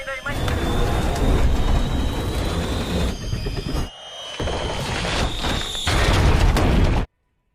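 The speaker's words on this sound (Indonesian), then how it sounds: "Gary segera melempar granat untuk menghindari serangan zombie itu" A grenade blast in a zombie film, a loud broad burst of noise with rumbling debris filling most of the clip, a brief dip partway, then cutting off abruptly; voices and dramatic film sound run beneath.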